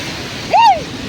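Steady, dense rush of heavy monsoon rain fills the background beside the Mumbai–Pune national highway, with a brief swooping tonal call rising and falling over it.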